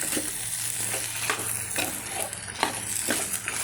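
Dry pan sizzling with repeated scraping strokes as spices are stirred and toasted, a steady low hiss underneath, close and fairly quiet.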